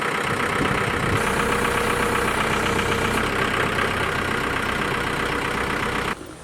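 A loud, steady tractor engine idles close by with a rough, knocking rumble, cutting off abruptly near the end.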